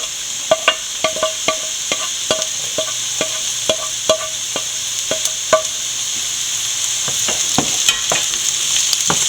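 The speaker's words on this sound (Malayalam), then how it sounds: "ഇഞ്ചിയും വെളുത്തുള്ളിയും കൂടെ നല്ലപോലെ വഴറ്റിയെടുക്കുക" Chopped onion, ginger and garlic sauté in a pan with a soft continuous sizzle while a spoon taps and scrapes the pan in a steady rhythm of close clicks.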